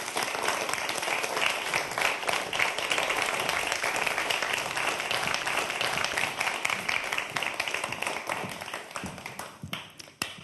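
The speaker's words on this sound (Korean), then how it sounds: "여러분 큰 박수로 맞아주시기 바랍니다" A lecture-hall audience gives a sustained round of applause to greet Seoul National University professor Lee Je-hee, a dense wash of many hands clapping steadily for about ten seconds before thinning out at the end.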